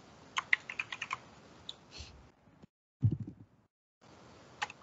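Computer keyboard typing while coding a Java thread class, a quick burst of close clicks, a pause with a couple of soft thuds, near silence, then a few more keystrokes.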